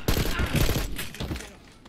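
Heavy gunfire in the Black Ops 6 campaign, a dense burst of overlapping shots and explosions that rattle loudly for over a second before tailing off.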